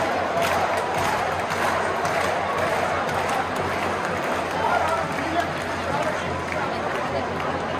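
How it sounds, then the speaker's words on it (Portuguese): Excited rugby crowd packed into a stadium in Batumi, a dense, steady roar of chatter and cheering with occasional swells, loud and close throughout. "Olha a emoção da torcida."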